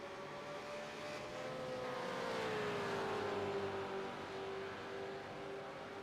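Race car engine in a sim racing game on a hot lap around the Nurburgring GP circuit, a steady high-pitched whine that sweeps downward and then holds, moderately loud and continuous with no talk.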